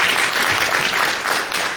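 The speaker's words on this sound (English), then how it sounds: "Let's give our moderator, Jennifer Birdie, one more round of applause." Audience at a school board candidate forum applauds, a dense steady wash of clapping that fills the short moment without a break.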